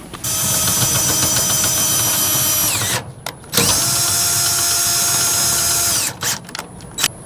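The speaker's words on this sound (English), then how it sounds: "I'm gonna get my drill and run it up and down" A power drill cranks the stabilizer jacks of an Airstream travel trailer, whining loudly and steadily in two long runs of about three seconds each, split by a brief pause and followed by short stop-start bursts, close by.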